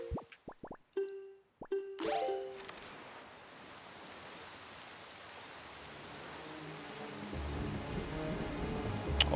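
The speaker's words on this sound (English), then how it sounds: "right now we are cursed, so forever it's going to be nighttime and raining" Rain falls in the video game The Legend of Zelda: The Wind Waker during a cursed nighttime scene, a steady hiss of drops building slightly louder after a few brief plucked musical tones and chimes at the start.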